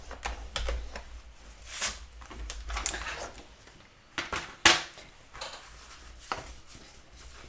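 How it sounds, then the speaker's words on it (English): Paper trimmer's scoring blade drawn across cardstock at half-inch and three-and-a-half-inch marks, a series of sharp clicks and short scraping swipes, close and fairly quiet. "I'm going to just use the scoring blade on my trimmer today"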